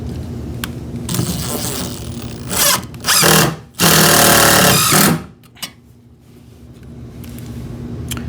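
A power drill drives 3.5 inch deck screws into a stud to reposition an outlet box, heard as loud close whirring bursts that rise and stop, the longest lasting about a second, over steady background hum.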